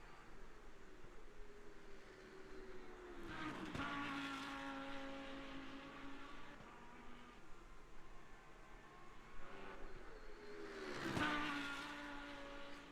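A Lamborghini GT3 race car in the Le Mans Ultimate racing game drives toward the Porsche chicanes, its engine a steady high drone that drops as it downshifts and rises again, with brief tire scrubs, heard at moderate volume.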